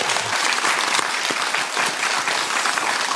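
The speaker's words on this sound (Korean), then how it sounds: "여러분 응원의 박수 감사합니다" A studio audience at a senior talk show gives loud, continuous applause, dense and close throughout with no talking over it.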